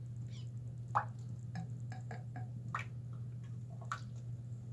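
A clogged shower drain clearing after Liquid Plumr, with small irregular gurgles, drips and clicks spaced through a steady low hum, faint and close, with no talking.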